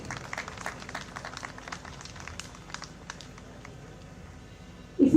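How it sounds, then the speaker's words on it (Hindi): An outdoor audience at a city park cleanliness event in Jaipur claps to welcome guests on stage, a moderate, fairly distant patter of many hands lasting several seconds before a louder burst at the end. "स्वागत अभिनंदन की कड़ी आपकी तालियों की गूंज के साथ होनी चाहिए।"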